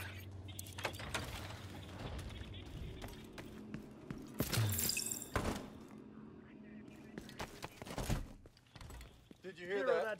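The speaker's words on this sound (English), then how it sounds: "Hear that shatter?" Several sharp crashes and clatters of breaking glass amid scattered thumps and clicks in The Division 2, with a voice speaking briefly near the end.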